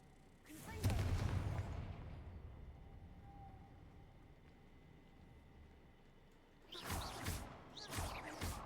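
The Confringo blast spell in a Hogwarts video game erupts in a loud burst near the start, then two more crackling blasts hit near the end over quiet ambience, with a voice between them.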